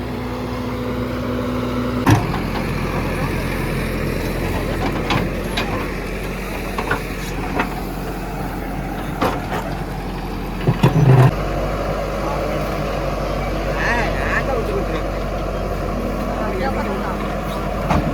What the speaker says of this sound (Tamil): பாத்தீங்களா எப்படி போகுது கிரவுண்ட் சுத்தம் பண்ணுற வண்டி